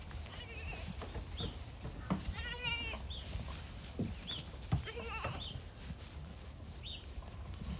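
Goats on Galloping Goat Ranch in Rio Rancho, New Mexico bleat several times at moderate distance, separate calls scattered over rustling outdoor background with some faint talk.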